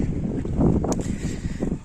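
Strong wind buffets the microphone as someone walks into it across an open pumpkin field, a continuous rough rumble with gusty swells and no clear speech.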